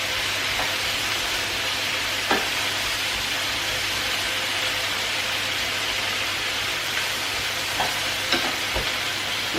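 Potatoes, carrots and other vegetables fry in a hot pan with seasoning, a steady close sizzle with occasional scrapes and clinks as they are stirred.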